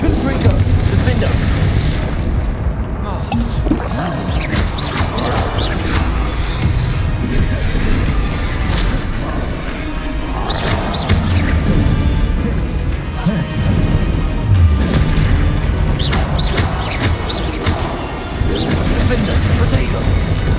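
Repeated Confringo blasting-spell explosions in Hogwarts Legacy, a dense run of booming crashes and impacts over continuous loud game noise, with a voice talking over the action throughout.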